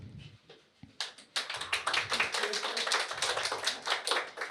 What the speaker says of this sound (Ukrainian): Бля, вони ще аплодують, капець.